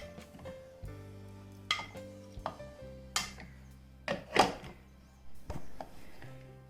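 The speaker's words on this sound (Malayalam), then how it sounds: "ഇനി ഒരു ചോപ്പർ എടുത്തിട്ട് ഇതിലേക്ക് ഇട്ടിട്ട് ഇതൊന്ന് ക്രഷ് ചെയ്തെടുക്കാം." A kitchen chopper works through warmed bread in short bursts, giving several separate whirring pulses with clacks and knocks between them and low hums that hold between bursts.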